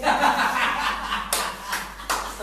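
A group claps in the style of Indonesian scout cheers, with sharp, loud collective bursts landing at short intervals over a steady crowd murmur.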